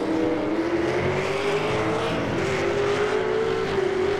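A V8 Supercars race car in a racing video game pulls out of the pits at Montreal, its engine a steady droning whine that climbs slowly in pitch, heard alone and continuously at moderate loudness.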